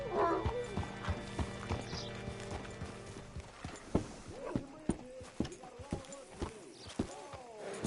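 Rhythmic clip-clop of horse hooves in the video game Red Dead Redemption 2, close by, with a horse whinnying near the start over a low musical background.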